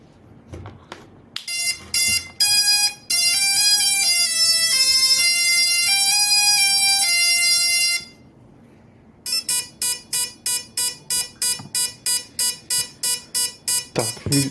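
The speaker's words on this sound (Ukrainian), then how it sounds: "Конкретно зараз він пищить від того, що немає коннекту з пультом." An FPV kamikaze drone with no connection to its remote controller beeps loudly. Bursts of stepped electronic tones and melodic chirps give way to a long, steady run of evenly spaced, rapid beeps.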